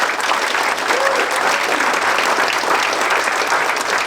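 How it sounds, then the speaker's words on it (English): An audience at a city council meeting claps in sustained, dense applause, loud and steady from start to finish. "That's a round of applause."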